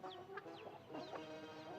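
A small flock of hens clucks softly at a distance, with several short overlapping clucks and rising calls over a quiet rural background.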